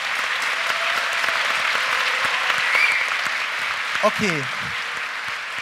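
Steady audience applause at an entrepreneurship summit in Berlin fills the clip, a dense wash of clapping with a brief spoken word near the end.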